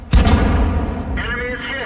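A tank gun fires once in World of Tanks, a loud, sudden booming blast that rolls off into a rumbling decay, followed by a short mechanical whine.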